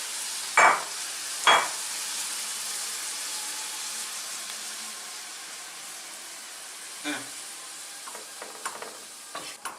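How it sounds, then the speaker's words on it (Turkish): Green peppers hit hot oil in a frying pan with two sharp crackling bursts, then settle into a steady, quieter sizzle with a few faint pops and clinks near the end. "şimdi hemen biberlerimizi ekliyoruz. Ne korktum. Bunlar çıtırlıyor."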